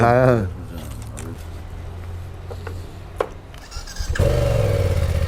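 A motorcycle engine idles with a steady low rumble for several seconds, set off by people talking just before and after, somewhere in Rize.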